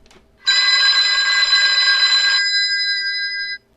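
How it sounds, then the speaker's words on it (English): A telephone in a house rings with one loud, sustained electric bell burst of about two seconds. Its ringing tone hangs on and then cuts off. No one talks. "Suddenly, the phone rings."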